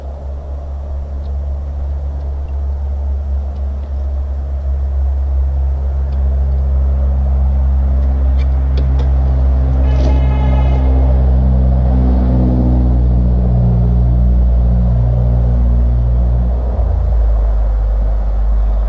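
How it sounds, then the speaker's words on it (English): Cars rushing past on a major highway beside a home, a steady loud traffic rumble that swells as a vehicle goes by close, with no talking. "I live right on the side of a major highway, so if you hear those cars"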